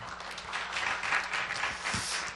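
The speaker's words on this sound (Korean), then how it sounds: "우리 목사님 5시간 동안 열정적으로 강의해 주셨는데 우리 감사의 박수 한 번 더 드리겠습니다" Applause from a seated audience at a church seminar on biblical family and child education, thanking the pastor after a long lecture: a steady, moderately distant wash of many hands clapping, with no voices over it.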